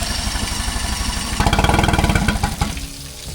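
A 40 HP outboard engine on a sailing catamaran sputters and catches, rising into a loud rapid chugging roar for a second or two before faltering and dropping back.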